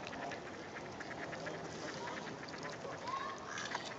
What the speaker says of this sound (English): where's the mommy duck?